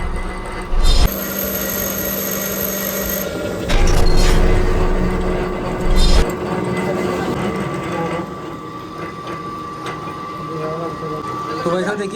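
Threads are cut on a large bolt in a workshop while building a custom solid axle, heard as loud grinding and humming machine noise with sharp bursts of louder cutting, and voices talking over it.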